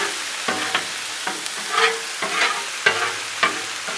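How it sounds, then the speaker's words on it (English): A metal spatula scrapes and pushes grease across a hot, sizzling Blackstone griddle while cheeseburger quesadillas cook, with repeated rough strokes over a steady frying hiss. "Push all the grease down the back hatch."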